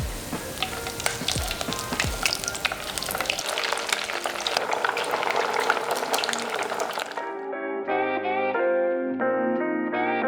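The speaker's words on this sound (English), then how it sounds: "we're gonna get ready to double fry it now" Battered pork pieces for Korean sweet and sour pork (tangsuyuk) crackle and sizzle loudly as they are double fried in hot oil. The dense frying noise runs for about seven seconds, then gives way to music.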